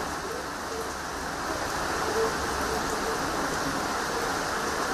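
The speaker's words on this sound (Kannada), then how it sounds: "ಜಿಲ್ಲೆಯಾದ್ಯಂತ ನಿರಂತರವಾಗಿ ಮಳೆ ಸುರಿತಾ ಇದ್ದು" Heavy monsoon rain pours steadily across the district in Karnataka, a dense, even hiss of falling water with no breaks, close and enveloping.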